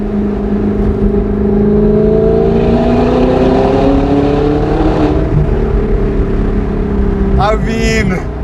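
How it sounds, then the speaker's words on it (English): An Audi R8 V8 with a straight-pipe exhaust revs hard close by, its exhaust rising and falling in pitch with a throaty drone, ending in a sharp burst of higher revs. "to hear the exhaust quickly."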